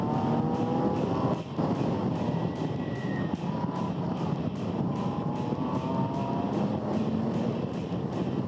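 Race cars, among them a Porsche 911, lap a hilly circuit at Dezzi Raceway with a corkscrew section, engines droning and whining through passes, with pitch sweeps as cars approach and recede over steady noise.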